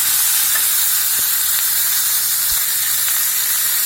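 Steady, loud sizzling of tomato chutney sautéing in a hot pan, a continuous crackling hiss with a few faint clinks and stirs, no voices.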